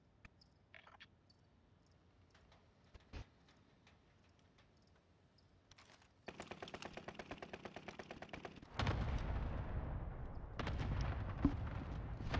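Gunfire in the video game Call of Duty: Modern Warfare: a few faint scattered shots at first, then a rapid automatic burst that swells into loud, sustained firing.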